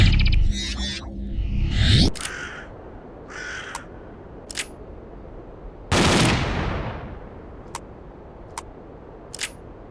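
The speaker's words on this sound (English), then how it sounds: "in Call of Pripyat, the shooting experience with these shotguns was way below par." A shotgun fires in S.T.A.L.K.E.R. Call of Pripyat, two loud close blasts with long fading tails, separated by sharp mechanical clicks and quieter chatter from the game.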